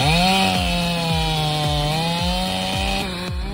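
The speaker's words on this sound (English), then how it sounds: "That chainsaw isn't just cutting wood, it's slicing through time itself." A chainsaw cuts through a massive tree trunk, its engine holding a loud, steady, close whine throughout while rhythmic chain strokes pulse beneath it.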